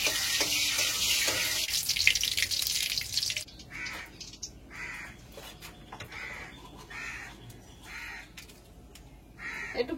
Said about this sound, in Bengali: কড়াইতে তেল দিয়েছি, এবার ডালটা সম্বাদ দিয়ে নেবো।